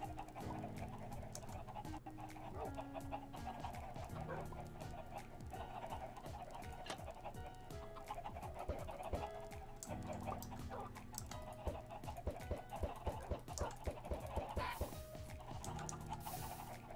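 Chickens clucking in the video game Minecraft, repeated soft clucks over a continuous bed of quiet game music.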